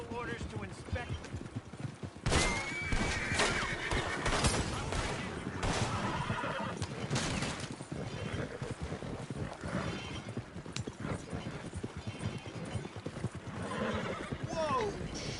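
Horses whinny and clop their hooves in Red Dead Online amid a busy game scene, with occasional gunfire and mechanical noise. Voices shout over the commotion.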